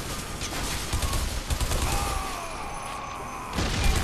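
Gunfire in the shooter video game Bodycount: a dense burst of rapid shots and crashing impacts, loud and continuous, with a brief quieter stretch before another volley.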